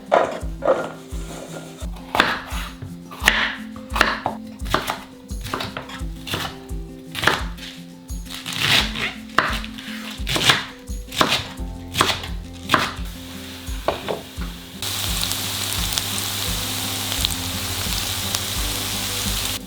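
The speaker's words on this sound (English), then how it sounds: "So we start by cubing the tempeh." Tempeh is cubed on a cutting board with a knife, giving a long run of crisp, close chops in uneven bursts that thin out, then a steady frying hiss takes over for the last few seconds. No one speaks.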